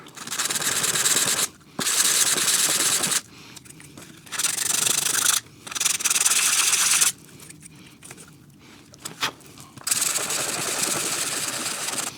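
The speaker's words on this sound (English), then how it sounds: "So I've got some 320 grit sandpaper. We'll start with that. Actually, I'll start on the top of the bowl here." Sandpaper of 320 grit rubbed over the top of a vintage tobacco pipe bowl on a flat surface, a close, steady raspy scrubbing in several long strokes with short pauses between, no talking.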